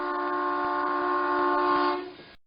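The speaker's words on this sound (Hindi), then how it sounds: "गांव के लोग ट्रेन की आवाज से जागते।" A train by an old railway track in a horror cartoon blows a long, loud, steady multi-tone horn blast that fades out abruptly near the end.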